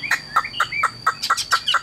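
A Chinese hwamei songbird sings a rapid series of about eight sharp, bright repeated notes at an even rhythm, close and loud against a quiet background.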